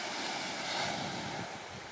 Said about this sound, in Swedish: vågorna som slår mot stranden här.